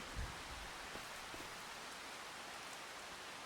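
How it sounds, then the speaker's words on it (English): Steady, even hiss of rainfall in the video game Farming Simulator 25, a soft continuous wash of noise with no voices or other sounds. "it's still bloody raining"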